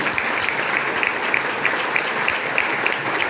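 A church congregation claps together in applause, loud and close, a dense steady wash of hands with faint rhythmic accents running through the whole stretch.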